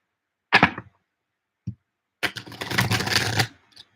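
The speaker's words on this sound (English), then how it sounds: "You know when you get a new deck and they're a little bit sticky to shuffle?" A new, sticky tarot deck being shuffled by hand: a short riffle burst, a brief tap, then a longer, dense rustling shuffle of cards, close and fairly loud with no talk.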